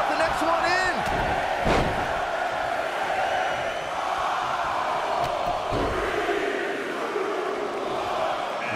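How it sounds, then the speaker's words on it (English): A wrestling video game crowd roars and cheers loudly and steadily, with a heavy slam-like thud and a commentator talking over the noise throughout. "Listen to this crowd."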